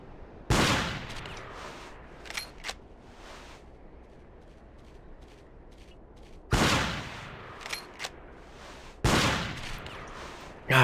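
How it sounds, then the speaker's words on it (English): Rifle shots in Cabela's Big Game Hunter 2005 during a hunt: three sharp, loud reports spaced a few seconds apart, each with a fading echoing tail, over a quiet outdoor ambience with a few faint clicks. "I know I'm wasting a lot of shots here"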